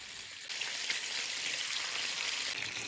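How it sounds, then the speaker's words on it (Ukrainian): Chicken pieces searing in a frying pan, browning skin-side down, give a steady, dense sizzle and crackle that holds at an even loudness throughout, with no voices. "Починаю смажувати двох сторін до румяної шкіри."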